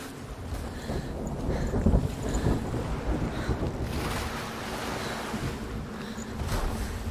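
Ocean waves crash continuously in the video game Hellblade: Senua's Sacrifice, a broad, steady roar of surf mixed with wind, with no one talking.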